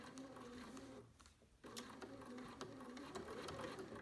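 A BERNINA sewing machine stitches across pleated fabric for a face mask, a close, rapid mechanical whir that pauses briefly partway through, then resumes steadily.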